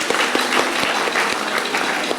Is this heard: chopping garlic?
no